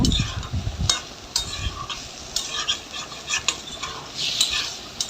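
Vegetarian soybean curry being stirred and fried in a pan, with a spoon scraping and clinking against the metal at irregular intervals over a soft background sizzle.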